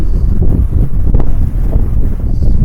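Strong wind blowing hard across a hilltop wild camp on Eldon Hill, a steady loud low roar buffeting the microphone with gusts, near and constant throughout, no talk.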